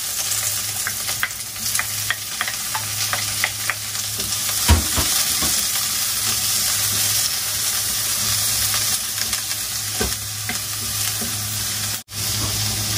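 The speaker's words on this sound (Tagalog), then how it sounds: "Next, lunod natin yung sibuyas." Onions sautéing in a pan for Filipino gisadong repolyo, a steady close sizzle and frying hiss with occasional stirring scrapes, no talking.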